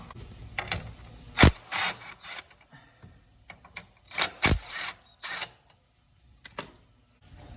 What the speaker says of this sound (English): There's a 13 millimeter socket on there.